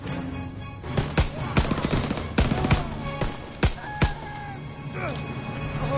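Repeated gunfire from a World War II battle in Call of Duty WW2, sharp loud shots in an uneven rapid series, some close together in bursts, with a speaking voice over them.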